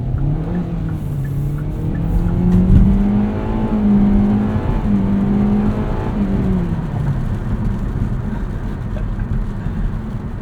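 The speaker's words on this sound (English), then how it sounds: "It actually has pretty decent acceleration for only 147 horsepower." A 2023 Kia Soul GT-Line with 147 horsepower accelerates hard, its engine note climbing through closely spaced gear changes, heard as a loud steady drone from inside the cabin with no talking.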